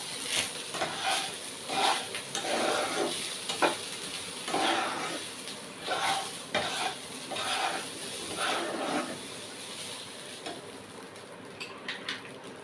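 Rice being stirred in hot oil in a pan over a gas flame, a steady sizzle with repeated scraping strokes of the spoon at an even rhythm, close and clear.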